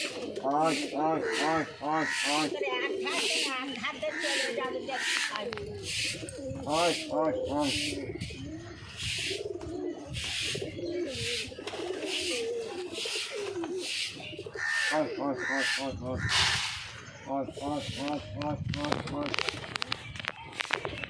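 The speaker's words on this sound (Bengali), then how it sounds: "পায়রা ডাকছে দেখেছো" Pigeons coo repeatedly up close, their soft throaty calls layered under ongoing conversation, with rubbing and scraping noises mixed in throughout.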